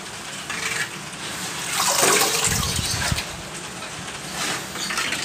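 Water from a guppy pond is drained in a steady, rushing gush that swells to a louder surge midway and then settles, close and continuous with no voices.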